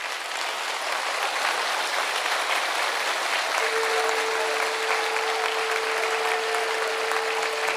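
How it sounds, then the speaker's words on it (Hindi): A large audience at a spiritual gathering claps loudly and continuously, a dense, even roar of applause lasting throughout with a brief sustained tone appearing partway through. "तो जितनी मस्ती आई उतनी कस के ताली बजा दी जाए।"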